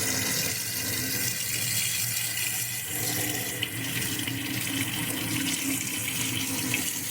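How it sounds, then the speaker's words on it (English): Water runs steadily from a tap into a sink during a surgical hand scrub, a continuous close splashing rush with no speech. "So under the running water"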